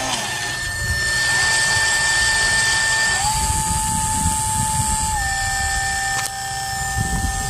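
A Dolphin S 300i pool robot's motor hums steadily with a whining tone that shifts pitch a couple of times, running close by and loud with no talk over it.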